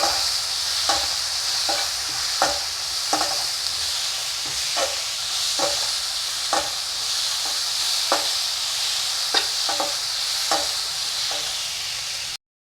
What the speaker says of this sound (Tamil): இப்போ நல்லா வெங்காயம் தக்காளி எல்லாம் வதங்கிடுச்சு